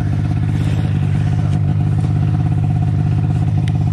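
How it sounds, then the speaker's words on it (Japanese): A snowmobile engine runs steadily and loudly close by, with a strong throbbing low drone and mild revving throughout, no voices. "エンジン吹かさないと切れそうになる"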